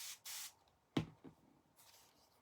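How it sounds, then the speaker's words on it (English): Water from a spray bottle misting onto paint paste, two short faint hissing bursts at the start and another soft spritz near the end, with a small knock in between, close and quiet. "we're going to spray it with water"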